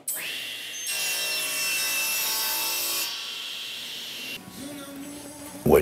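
A hand saw makes a straight cut through maple or walnut, a sustained rasping rub that starts abruptly, holds steady for a few seconds, then gives way to quieter scraping and a short knock at the end.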